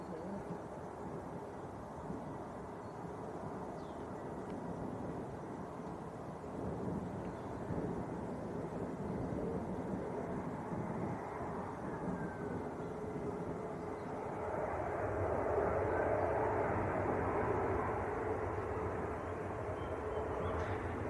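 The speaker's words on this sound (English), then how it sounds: "Aer Lingus, next to land. An A320 from Dublin." An Aer Lingus A320 from Dublin comes in to land at Manchester Airport, a steady distant jet roar under wind noise that swells louder toward the end as the airliner draws closer.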